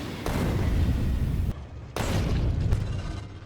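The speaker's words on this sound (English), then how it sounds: "we're gonna have 4 artillery cannons going off" Artillery cannons fire in Factorio: Space Age as a heavy, continuous booming roar that breaks off briefly, then resumes just as loud and rumbling with no voices.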